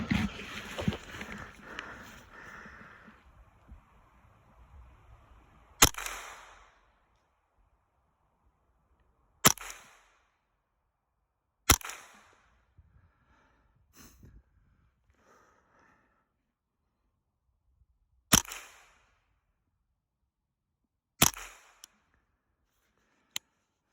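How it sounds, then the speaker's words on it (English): Gunshots from target practice after sight adjustments on a snowshoe hare hunt: about five to six sharp, loud cracks spaced several seconds apart, each standing alone in outdoor quiet, after a brief stretch of handling noise. "Let's take a few more shots with these new sight adjustments."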